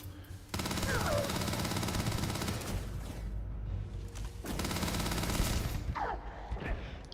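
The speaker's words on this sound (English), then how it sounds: "I like how the gunshots push you back." Rapid video game machine gun fire crackling in sustained bursts, a dense continuous rattle with a brief pause before a second long volley, loud and close with no talking.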